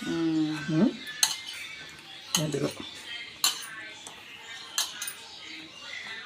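Soaked flattened rice (poha) is mashed in a bowl, with soft squelching and a few sharp utensil clinks against the dish in irregular strokes, under a woman's speech.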